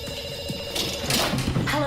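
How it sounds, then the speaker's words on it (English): A telephone rings in a television advert, a steady electronic bell tone repeating at close range beneath background music and a voice. "we pick up the phone because it's ringing"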